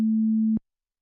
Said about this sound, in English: And a sine wave sounds like this.